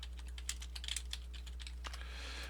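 Quick, light keystrokes clatter on a computer keyboard in an irregular rhythm, close and fairly quiet over a steady low hum.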